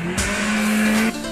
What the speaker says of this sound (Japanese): ブレーキングドリフト頼むよ